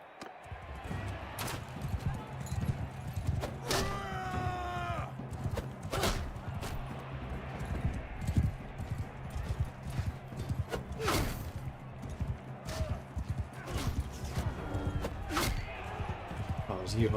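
Horse hooves clop in Mount and Blade 2: Bannerlord during a tournament, a steady mid-level rhythm of hoofbeats with occasional sharp impacts, while someone talks over much of it.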